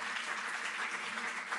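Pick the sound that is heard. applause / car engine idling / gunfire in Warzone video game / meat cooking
applause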